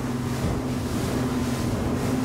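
Axopar 24 T-top boat, a 2017 model, running out to sea, with a steady engine drone under rushing water and wind noise, loud and close throughout.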